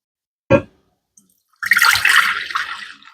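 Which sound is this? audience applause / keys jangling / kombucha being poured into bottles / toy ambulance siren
kombucha being poured into bottles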